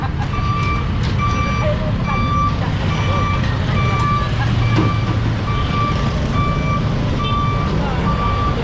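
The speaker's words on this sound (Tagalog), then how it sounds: "Saan ba umikot yung truck?" A garbage truck backs up during a street clearing operation. Its reversing alarm beeps in a steady repeating rhythm over a loud, rumbling diesel engine, with faint voices in the background.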